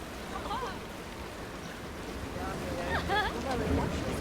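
Rushing rapids in the Planet Coaster 2 theme-park game make a steady, moderate wash of flowing water, heard throughout under a voice talking.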